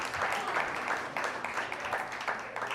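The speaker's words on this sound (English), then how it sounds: "put your hands together for Ezana Mekonnen. Give them a nice round of applause" Audience applause at a standup comedy show at the Milk Parlor, a steady wash of many hands clapping that fills the room without a break, loud and close.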